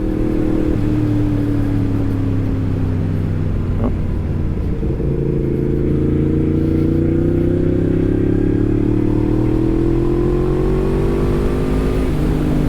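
A Yamaha MT-10 crossplane motorcycle engine, Stage 1 tuned to 183 hp, revs loudly and continuously, its pitch climbing and falling through several throttle pulls with a deep, rumbling exhaust.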